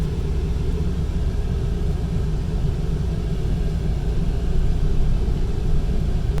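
A truck rolls along with a steady, dense low rumble of engine and road noise heard from inside the cab, swelling slightly louder partway through.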